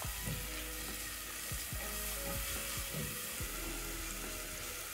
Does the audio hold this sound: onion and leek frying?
yes